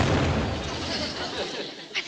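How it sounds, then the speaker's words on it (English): An aerial bomb firework bursts near a railway station, a loud broadband boom with a rumbling, crackling tail that decays over about two seconds. "I think that last one must have been an aerial bomb."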